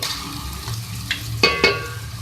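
Masala being fried with ginger garlic paste for a sabzi masala, with a low steady sizzle, a few clicks, and two short louder scraping stirs near the middle.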